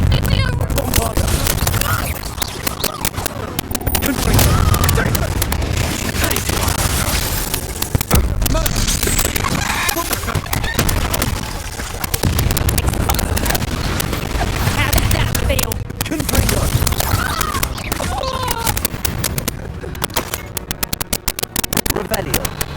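Bombarda explosion spells in Hogwarts Legacy, with dense booming blasts and crackling impacts sustained loudly throughout under game music and occasional voices.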